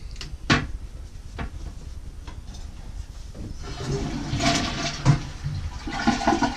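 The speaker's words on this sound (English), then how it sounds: "Let's flush them." A household toilet flushes close by after a few sharp clicks and a handle knock, then swells into a rushing, gurgling swirl of water that stays loud until the end.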